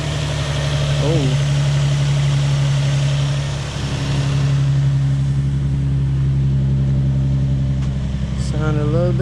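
Steady, close idle of an Infiniti G35 sedan engine fitted with a new plenum spacer, a loud continuous hum with a slight dip midway and brief squeaky chirps near the end.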